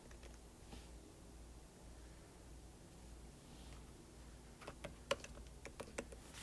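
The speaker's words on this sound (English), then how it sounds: "I can type in text." Typing on a computer keyboard comes in quietly, with a few soft clicks at first, then a quick cluster of key taps near the end over faint background hiss.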